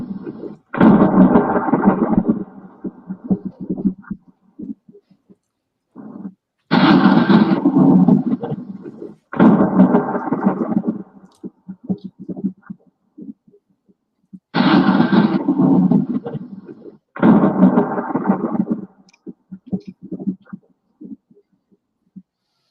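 Thunder sound effect: five loud, booming rumbles, each several seconds long and roughly evenly spaced, separated by near silence, with deep rolling low end and crackling edges.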